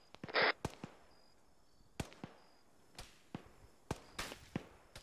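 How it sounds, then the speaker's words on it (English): Gunfire in the video game Arma 3, a scattered series of sharp reports at irregular intervals, some close and some more distant, over quiet background ambience, with no talking. "We're under fire from our south."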